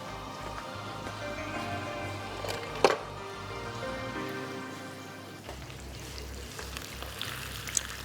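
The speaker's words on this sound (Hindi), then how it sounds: "चलिए हल्का सा इसको फ्राई कर लेते हैं" Potatoes frying in a little oil in a pan give off a steady, soft sizzle and crackle, with a brief sharp clatter partway through and no talk over it.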